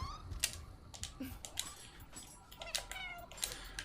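Cat in the video game Nioh 2 being petted, with faint short meows scattered among sharp clicking taps of keyboard typing, all quiet and close.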